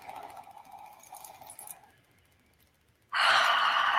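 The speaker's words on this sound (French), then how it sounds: "On inspire" A deep breath is drawn in during a guided spring meditation ritual, a soft airy sigh and breath sound up close at first, then a sudden loud, sustained rush of air near the end.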